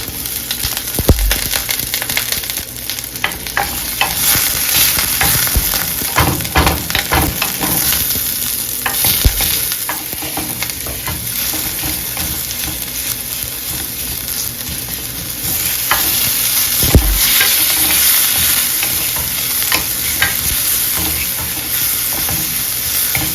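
Fresh garlic fries in a very hot pan set on high for a tofu scramble, a loud, continuous sizzle up close with repeated scraping and stirring strokes throughout, and no talking.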